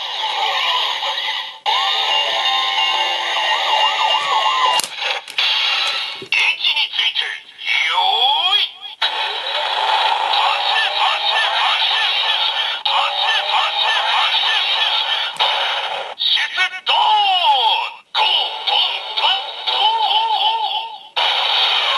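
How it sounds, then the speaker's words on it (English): A Lupinranger vs. Patranger DX VS Changer toy with Trigger Machine, playing electronic summoning sounds: loud, busy synthesized tones, jingles and voice-like effects through a small speaker, with brief pauses and button clicks between phrases. "there's also summoning sounds for the trigger machines"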